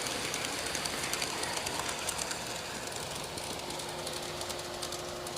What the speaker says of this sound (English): Today is another run of the Bumblebee train.